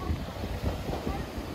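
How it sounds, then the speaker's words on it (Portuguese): Strong wind buffets the microphone beside a lagoon in an open coastal setting, making a steady, loud rumbling roar that fills the whole clip with no clear voice. "Tá ventando bastante aqui. Acho que dá pra escutar ali no áudio."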